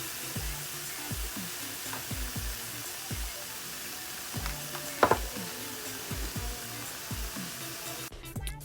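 Cube steak sizzles in a frying pan as a steady hiss beneath a regular low mechanical ticking, with a brief clatter midway and a sharp burst at the very end.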